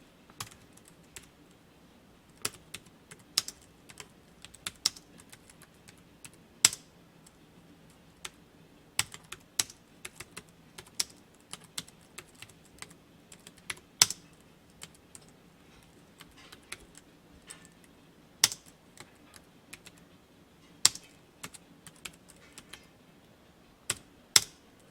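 Sparse keystrokes on a computer keyboard while Korean text is typed into a word processor for a certification exam exercise, with isolated clicks and short bursts spread unevenly over a quiet room background.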